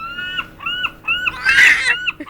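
A baby girl imitates seagulls with repeated high, squealing cries that slide downward, about four calls in a row, close and clear with short pauses between them.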